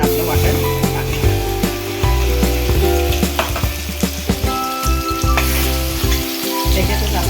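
Ground masala paste hitting hot oil in a wok over lowered gas for a village-style dry chicken dish, giving a loud, continuous close sizzle with spattering and occasional stirring scrapes.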